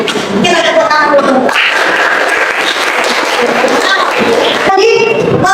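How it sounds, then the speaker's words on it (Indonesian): A group of people clapping together at a school coaching session, dense continuous applause that stays loud throughout, with voices and brief cheers mixed in. "kita tepuk tangan dulu"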